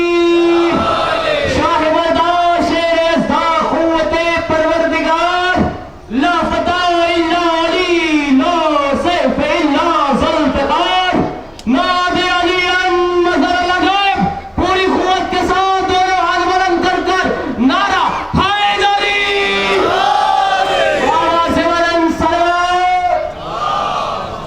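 At a Muharram majlis for the Karbala martyrs in Jeanpur, Azamgarh, a crowd answers the Naara-e-Haidari slogan call with loud, sustained chanted shouts. The shouts rise in repeated waves with brief pauses between them, close and dominant throughout.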